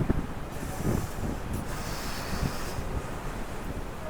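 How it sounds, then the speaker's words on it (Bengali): Rough surf and gusting wind roar steadily throughout, heard from aboard a ship at sea, with buffeting noise on the microphone and no voices. "সমুদ্র উত্তাল।"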